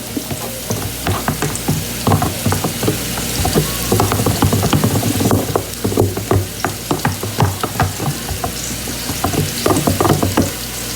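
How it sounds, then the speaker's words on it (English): Garlic fries in a hot pan with a loud, close, continuous sizzle, broken by repeated stirring clicks and scrapes. "That's exactly the kind of sizzle I want to have going on."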